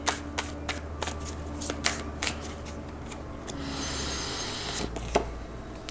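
Tarot cards being shuffled by hand, a run of crisp, close riffling flicks and soft card slaps repeating irregularly, with a brief smoother rustle partway through.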